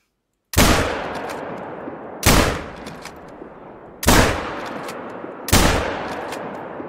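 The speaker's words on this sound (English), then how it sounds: "There he is. I'll take the shot." Four loud rifle shots from the hunting game Hunter: Call of the Wild, spaced about two seconds apart, each a sharp crack followed by a long rolling echo that fades before the next.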